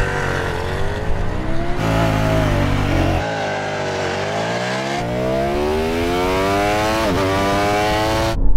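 An Audi RS car and a Ducati motorcycle accelerate hard in a drag race, engines climbing through rising gear pulls with sharp shifts, loud and close throughout, no talking.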